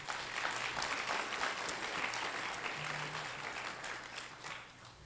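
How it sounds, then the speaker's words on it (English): An audience at a mayoral forum on gun violence in Philadelphia claps in a steady round of applause that fades slightly toward the end, heard at a moderate distance. "How about giving them all a round of applause?"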